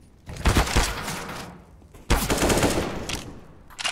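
Counter-Strike: Global Offensive gunfire in two loud, close bursts of rapid automatic shots separated by a brief pause, with a few more shots starting at the end.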